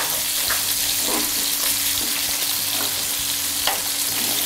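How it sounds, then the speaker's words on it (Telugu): Stuffed bitter gourds fry steadily in hot oil in a pan, a continuous close sizzle broken by a few scraping knocks as they are stirred now and then. "కాకరకాయని ఇలా మధ్య మధ్యలో కలుపుకుంటూ ఉండాలి."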